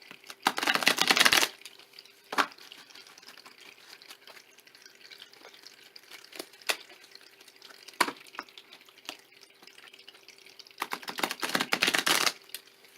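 Tarot cards riffled and shuffled in two loud crackling bursts at the start and end, with soft taps and card snaps in between, close and quiet.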